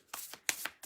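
Tarot cards being shuffled by hand, several brisk riffling bursts in quick succession, close and clear with no talking.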